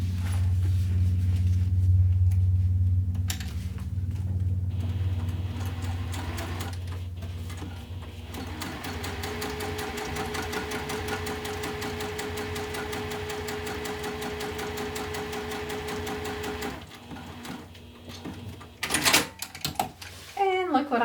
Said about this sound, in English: So I'm top stitching.